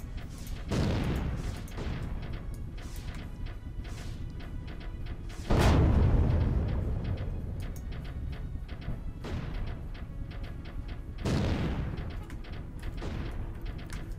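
Explosions from the Particle Fleet video game: three deep, booming blasts at roughly 1, 5.5 and 11 seconds, each with a long rumbling decay, heard over a steady background of game noise with no talking.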